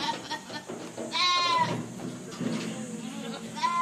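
A goat bleats several times, nearby and wavering, during a hands-on session giving intramuscular injections to cattle and goats, with people talking faintly and shuffling in the background.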